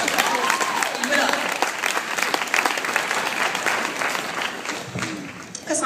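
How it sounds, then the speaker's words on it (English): A wedding crowd applauds the newlyweds with a sustained burst of dense clapping that stays loud and even for several seconds before thinning slightly at the end, with scattered voices mixed in. "I think they deserve another round of applause for that"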